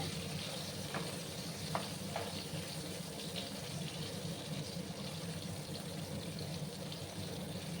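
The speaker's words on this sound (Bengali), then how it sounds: "দেখো আমার আলুগুলো একটু ভাজা হতে থাক।" Potatoes fry in a pan for a vegetable dish, giving a soft, steady sizzle at low volume throughout, with a few faint clinks of utensils and no talking.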